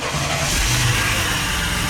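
A pickup truck's engine, just revived by a jump-start after a loose battery connection, runs loud and close with a low, steady rumble that rises into a brief rev.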